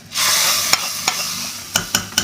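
Mustard seeds, urad dal and chillies tempering in hot oil, a sudden sizzle that settles into a steady hiss with several sharp pops and spoon clicks.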